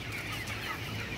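Native chickens clucking on a farm with a breeding rooster among them, a steady close chorus of soft clucks and murmurs with no talk.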